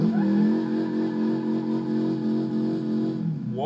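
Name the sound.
car engine sound from a video game mod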